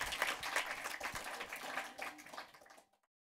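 An audience applauds director Peter Meister at a German film event, with dense, steady clapping from a crowd that thins and then stops abruptly just before the end.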